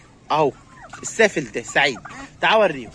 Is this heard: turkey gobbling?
yes